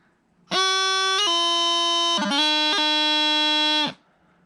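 A reedy, buzzing bagpipe practice chanter plays a short tune, a few sustained notes with quick grace-note flicks between them, loud and close with no talking.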